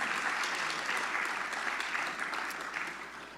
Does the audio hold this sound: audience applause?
yes